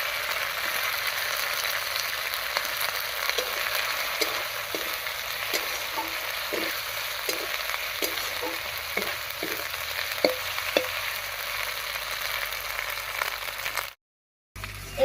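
Tomato stirred into a frying mixed dal chorchori with lentils, cauliflower and flat beans in a pan: a steady close sizzle of oil with repeated scraping and stirring clicks, ending in a brief silence.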